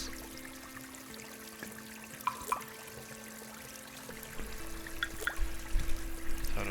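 Water trickles and pours in a Dreams-built shishi odoshi, a soft continuous flow with a few light drips and clicks, growing into a fuller splashing pour toward the end.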